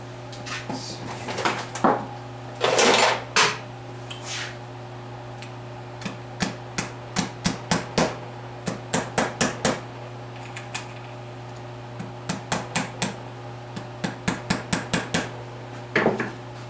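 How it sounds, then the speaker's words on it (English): Ball peen hammer tapping down on small engine parts of a Sears Suburban garden tractor: a long string of sharp metallic taps, close and loud, coming in quick clusters over a low steady hum. "Take my ball peen and tap down on those and get that tightened up"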